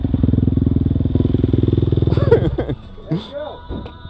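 Motorcycle engine idling close by with a rapid, even chugging pulse for about two seconds, then the engine dies away as people talk and something clatters.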